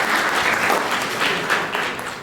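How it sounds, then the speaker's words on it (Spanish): Audience applause fills the hall after a talk on parapsychology and brain activity is introduced, steady clapping from a full crowd sustained throughout at even loudness. "Por favor, un aplauso."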